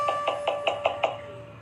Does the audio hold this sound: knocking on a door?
yes